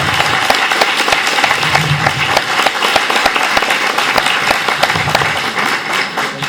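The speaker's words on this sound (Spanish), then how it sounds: "Pido un aplauso para María" A crowd applauds María at a book presentation on Inca quipus, with many hands clapping in a full, continuous patter and some sharper individual claps standing out, sustained throughout.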